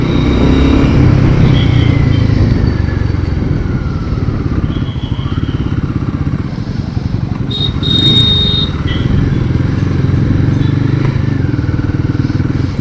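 A 2025 Royal Enfield Guerrilla 450 motorcycle engine runs under way, a loud, steady low thrum with slight rises and dips in revs, heard close throughout and alone without talk.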